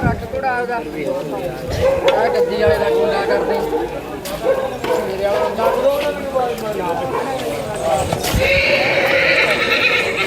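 Nihang Sikh war horses whinny and neigh repeatedly at a gurdwara gathering in Behbal village, with hooves clopping and a dog barking now and then amid the crowd's chatter and someone speaking close by.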